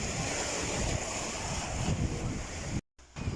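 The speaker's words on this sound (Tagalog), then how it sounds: "Super ganda ang dagat dito sa Bagak, Bataan" Sea waves at the beach in Bagac, Bataan, a steady broadband wash of surf mixed with wind buffeting the microphone, cutting out briefly near the end.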